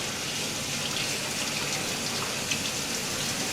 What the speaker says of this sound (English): The water comes out of there fairly quick if you turn it on too fast.